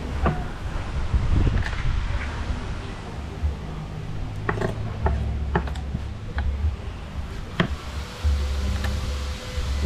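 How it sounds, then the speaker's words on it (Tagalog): Steady low rumbling wind buffets the microphone throughout, with scattered clicks and knocks on top and no speech. "Pero ang lakas ng hangin oh. Ang lakas ng hangin."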